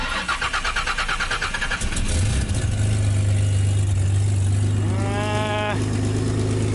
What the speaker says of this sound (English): I haven't started this car for a little while. It sounds alright.